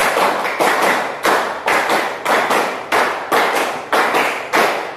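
A classroom of students clap their hands in counted groups, bursts of sharp claps separated by brief pauses, repeating in a steady rhythmic pattern with no talk over them.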